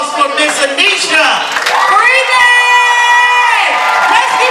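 Audience at a Madness to Miracles 2019 event cheering and whooping loudly, a dense crowd roar with high shouts and sustained yells rising over scattered clapping, speech mixed in.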